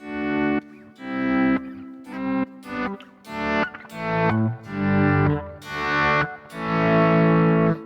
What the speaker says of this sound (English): this is the automatic way of swelling in your sound